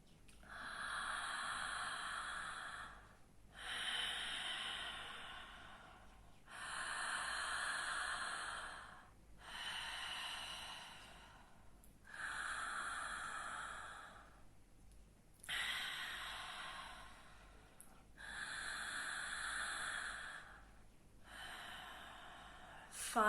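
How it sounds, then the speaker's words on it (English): Deep, slow breaths drawn in through the mouth during a guided breathwork session, eight long airy inhales and exhales in a steady rhythm, close and clear with no talk over them. "Keep breathing in through the mouth."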